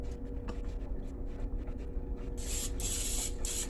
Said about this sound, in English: Always spray your pan before you start cooking.